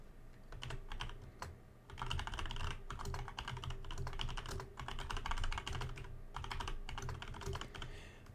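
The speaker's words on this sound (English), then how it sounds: "I'm gonna go ahead and type that in." Steady typing on a computer keyboard fills the clip in dense bursts of clicks with brief pauses, close and clear, with no one speaking.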